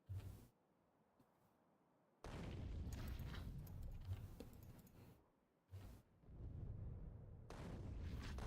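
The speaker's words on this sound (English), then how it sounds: "God, I love artillery." Artillery fires repeatedly in the factory-building game Factorio, heavy booming blasts rolling into sustained rumbling barrages with short quiet gaps between volleys, loud and close.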